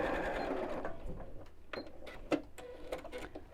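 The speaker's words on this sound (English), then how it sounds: "So sew across the top and sew across the bottom." A domestic sewing machine stitches across the top and bottom of fabric for a bowling bag, giving a close, quiet mechanical whirr with rapid needle clatter in short bursts and stops.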